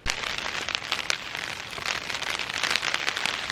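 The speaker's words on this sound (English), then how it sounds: "starts raining." Steady rain patters on a tent at a campsite on the Maroon Bells Four Pass Loop, a dense, even hiss of close drops with scattered sharper taps throughout.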